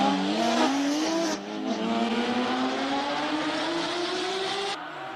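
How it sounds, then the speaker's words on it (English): A Porsche GT3 race car revs hard and launches off the start line, its engine note climbing steadily through gears, loud and close with a brief shift dip. "GT3 about to head off the start line."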